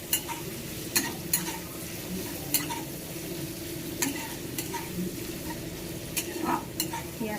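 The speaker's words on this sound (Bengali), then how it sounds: "আমি এটা কিছু নাড়িয়ে দিই।" Chowmein frying in a pan is stirred with a utensil, sharp clinks and scrapes landing at a loose, regular pace over a soft, constant sizzle close by.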